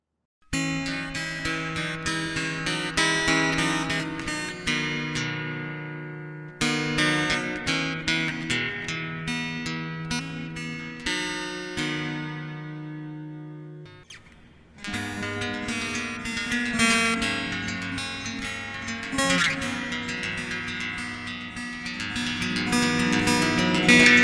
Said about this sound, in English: So let's now go see how this beautiful guitar actually sounds.